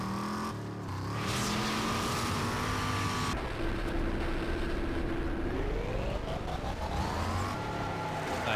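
In the video game Rage, a vehicle engine drones steadily and loudly throughout, its pitch falling and then climbing again as it revs, with rumbling road noise and no voices.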